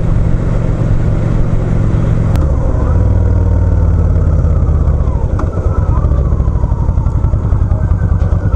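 A motorcycle rides along with a loud, steady engine drone close to the microphone, its pitch dipping briefly near the start, then running on with rough, continuous rumble and clatter.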